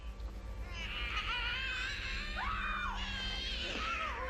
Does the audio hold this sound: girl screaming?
yes